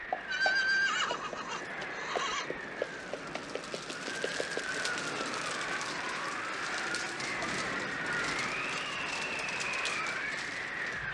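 Horse neighs loudly with a long whinny at the start, then hooves gallop in steady clip-clop rhythm throughout, close and continuous, with no talk over it.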